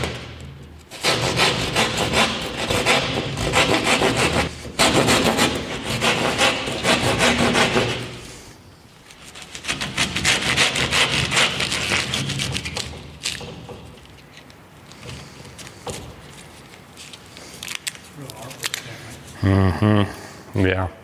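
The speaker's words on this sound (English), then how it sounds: "So we're going to cut them a little oversized." Handsaw cutting drywall sheets to size for a garage build, with long bursts of steady rasping strokes separated by short pauses, close and loud, while people talk over and between the strokes.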